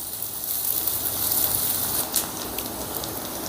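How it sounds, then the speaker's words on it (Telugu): Onion pieces fry in oil in a pan with a steady, soft crackling sizzle that holds constant and moderately quiet throughout, with a few sharper pops. "ఉల్లిపాయ ఈ రకంగా ఫ్రై అయితే సరిపోతుందండి"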